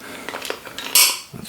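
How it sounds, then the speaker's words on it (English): Plastic protective covers pop off a Stihl chainsaw: light clicking and rattling handling noises, then one brighter snap, short and close. "First thing we need to do is pop off these protective covers."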